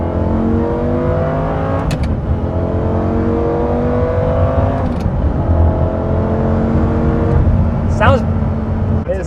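A Lamborghini Gallardo with a gated manual gearbox and a naturally aspirated 5-liter V10 is driven hard, the engine note rising repeatedly through gears with sharp shift breaks, loud and close, while a voice talks over it.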